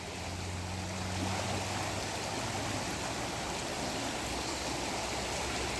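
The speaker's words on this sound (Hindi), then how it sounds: "और आज माँ गंगा में बहुत तेज़ बहाव हो रखा है" The fast-flowing Ganges at a ghat in Haridwar gives a steady, broad rushing wash of water that holds constant throughout, with no voices.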